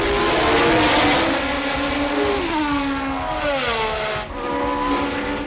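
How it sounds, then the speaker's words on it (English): A Shadow Ford Formula 1 race car at Brands Hatch in the 1975 Race of Champions: a loud, high engine wail that swoops down and climbs again as it shifts and passes, with no talk. "Tom Price and his Shadow Ford takes the checkered flag"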